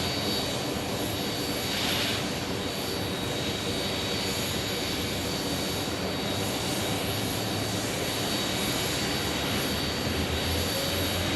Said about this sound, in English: it looks like MD-11 right now will be a south side arrival